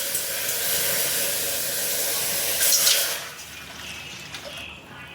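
Measured coconut milk poured into a pot for makhana payasam, a steady close splashing pour that swells briefly near the middle and then eases off.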